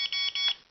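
Two quick electronic beeps from a Realacc R374 mini drone transmitter speed setting, close and clear in rapid succession.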